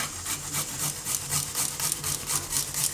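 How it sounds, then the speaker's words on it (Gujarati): A clove of garlic is finely grated in a kitchen, making a steady rhythmic rasping of quick strokes, close and fairly quiet. "હવે આપણે આ લસણ છે એને આ રીતે ઝીણું છીણી લેવું."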